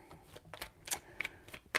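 Tarot cards are shuffled close up and quietly, a quick series of soft riffling flicks and taps over about two seconds, with no talking.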